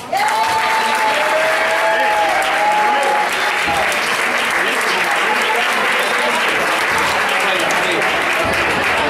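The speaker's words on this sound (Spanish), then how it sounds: "vamos a darle una fuerte y una calurosa acogida a Manuel." Sustained, loud audience applause at a live stand-up comedy night in Spain, steady clapping filling the room as a comedian is welcomed to the stage, with a brief whistle near the start and crowd noise throughout.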